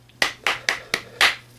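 Five separate hand claps, evenly spaced and sharp, ring out close and alone, with the last one a little louder and fuller.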